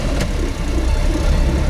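A Honda Beat's small engine runs steadily in second gear, a constant close droning hum with no revving, heard alone for a brief moment.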